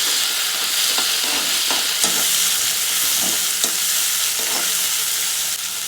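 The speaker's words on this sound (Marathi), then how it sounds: "कांदा लाल झालाय, आता त्याच्यामध्ये टोमॅटो टाकते." Tomato going into onions frying in a pan for a homemade moong sabji, giving a steady, close hiss of sizzling with occasional scrapes and taps of stirring throughout.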